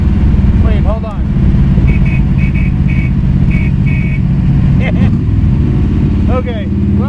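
A 1952 Allard J2X roars under acceleration on the road, its loud, steady engine drone running throughout while someone talks over it.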